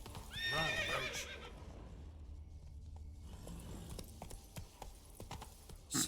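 Roach, a horse in The Witcher 3 video game, lets out a loud whinny followed by galloping hoofbeats that fade to lighter clopping steps.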